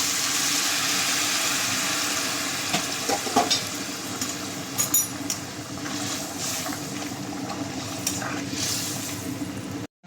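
Hot water goes into a pan of frying chicken curry with yam, a loud continuous sizzle and bubbling hiss with a few sharp spatters, then it cuts off abruptly.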